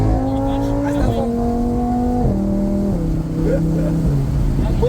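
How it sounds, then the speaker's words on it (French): A Lamborghini Huracan Spyder accelerates hard at full throttle, its loud engine note climbing through repeated gear changes in stepped rising sweeps, close and dominant with a voice now and then over it. "T'appuies très franchement sur la pédale. À fond quoi."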